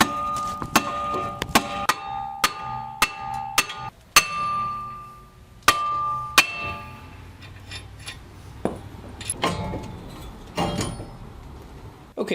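Sharp metallic taps on a stuck brake rotor of a 2016 Toyota Corolla, a steady run of about a dozen ringing clinks spaced roughly half a second apart, then a few scattered knocks and handling clatter close by.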